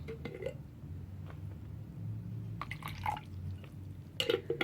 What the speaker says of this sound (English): what do you think will happen when we put our bluish purple cabbage juice into our vinegar?